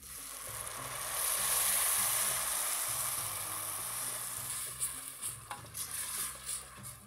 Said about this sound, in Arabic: هنزل بمعجون الطماطم، بحب انزل بمعجون الطماطم على البصل او الزيت الاول